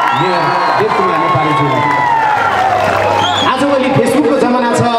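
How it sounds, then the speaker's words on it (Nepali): A large crowd at a teej song event cheers and whoops loudly, with voices shouting over one another in a continuous roar. "जोरदार तालीले सम्मान व्यक्त गरौँ।"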